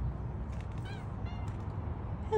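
A tuxedo cat gives a few short, polite meows as if saying hello, spaced out over a steady low background hum.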